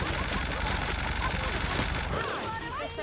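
A gun in the sci-fi role-playing game The Outer Worlds fires rapidly in a steady, dense stream, with a voice talking over the continuous shooting throughout.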